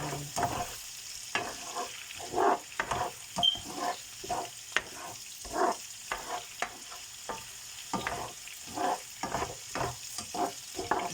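Prawns frying in a pan are stirred with a steady run of scraping strokes over a soft sizzle, close and rhythmic, with no talking.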